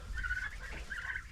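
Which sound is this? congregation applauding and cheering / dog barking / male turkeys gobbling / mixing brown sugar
male turkeys gobbling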